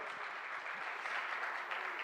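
An audience claps steadily and continuously at a Brampton mayoral campaign event, a dense, even wash of applause heard at moderate distance without any speech.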